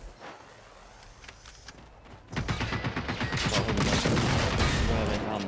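Gunfire in the Generation Zero video game: scattered shots at first, then from about two seconds a loud, rapid sustained burst of automatic fire that keeps going to the end.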